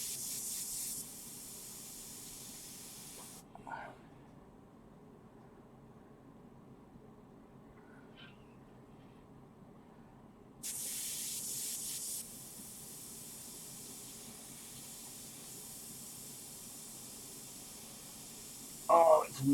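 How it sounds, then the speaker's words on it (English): An airbrush spraying paint gives off two short bursts of steady hiss, one at the start and one longer burst partway through. Quiet stretches with faint handling noises lie between them. "it's annoying when you want to just paint quick and your airbrush is just gobbing paint everywhere"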